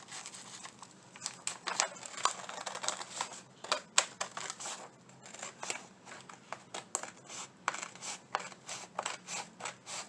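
Scissors snipping through paper or sign material for a Dollar Tree Christmas craft, a quick irregular run of close, crisp cuts with short pauses, no talking.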